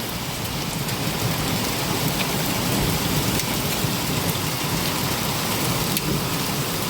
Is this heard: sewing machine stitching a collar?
no